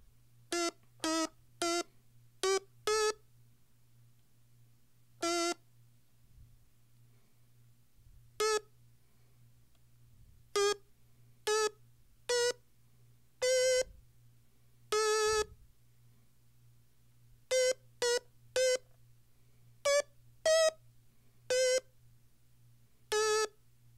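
Stylophone playing short, sharp buzzy beeps in irregular clusters, some quick runs and some single notes, over a faint steady hum.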